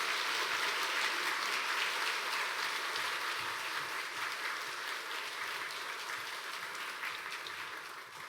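A church congregation at a Sunday worship service applauds to welcome a visiting missionary, a steady, fairly soft wash of many hands clapping that fills the room and eases off slightly toward the end.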